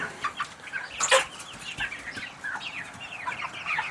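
Chickens cluck and chatter inside a chicken barn holding about 200 birds, a busy flock of overlapping calls with a brief flurry near the start and steady background noise.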